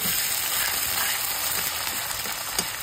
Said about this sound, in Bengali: পেঁয়াজটা মোটামুটি ভাজা হয়ে গেছে, খুব লাল করে ভাজি।